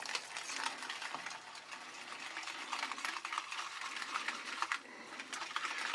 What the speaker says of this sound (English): But just keep whisking like this.